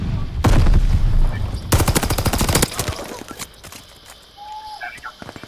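Rapid bursts of the Nambu gun in Call of Duty Vanguard, loud and close: a dense burst opens the clip, a second stutter of rounds follows, then scattered single shots, with a person talking over parts of it.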